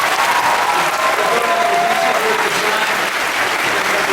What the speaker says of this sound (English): So a round of applause to Geoff Johns.